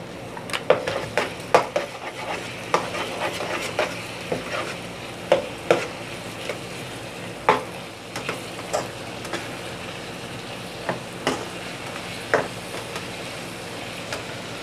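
Okra and potato sabzi frying in a pan with a spoonful of yogurt, a soft continuous sizzle under repeated sharp scrapes and clinks of a spoon stirring against the pan, no talking.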